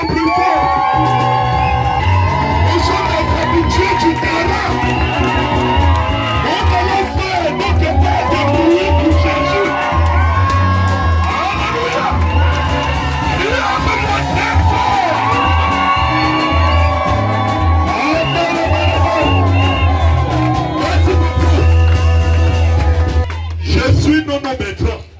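At a church crusade in Bandjoun, a large crowd cheers, whoops and shouts in a loud, sustained, dense roar with voices rising and falling throughout, tapering off sharply near the end.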